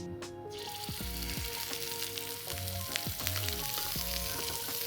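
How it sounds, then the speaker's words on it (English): Scallops sear in very hot vegetable oil in a frying pan, a steady close sizzle and crackle that runs unbroken for the whole stretch, with no voices. "So I'm going to sear my scallops in a frying pan first."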